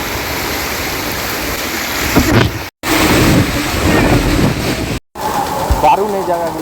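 Rushing water roars continuously during a slide ride at Accoland water park in Guwahati, loud and close with splashing surges, briefly cut by two short gaps, while someone talks excitedly over it.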